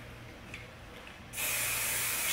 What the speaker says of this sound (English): Shaper Plus spray.